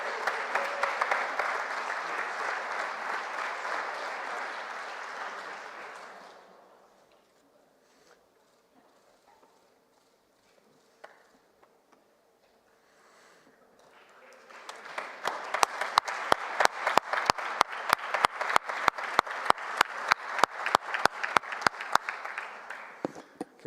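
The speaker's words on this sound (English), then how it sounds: "A huge round of applause for all of our 2023 hatchlings." Audience applause at The Hatch 2023 awards event for the year's hatchlings: a dense burst of clapping fades out, a quiet pause follows, then a second loud round of sustained applause builds, with sharp individual claps standing out near the front.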